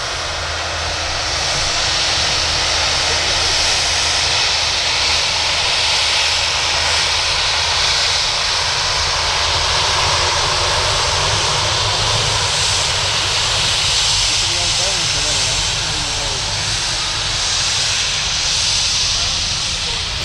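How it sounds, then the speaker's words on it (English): A Boeing 757 touches down at Manchester Airport with a loud, steady roar of jet engines and broadband rushing hiss. It fills the whole stretch without a break. "Just touching down"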